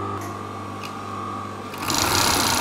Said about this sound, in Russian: поэтому нужно подставлять оверлок прям сразу под нож, и тогда вот получается вот такая вот красивая строчка.